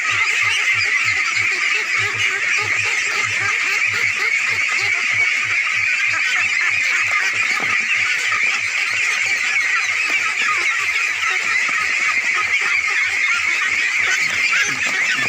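Ducks at an integrated 600-bird farm above a village pond in Bangladesh keep up a loud, steady chorus of honking quacks. Rapid repeated calls pulse throughout, close and unbroken, with no talk.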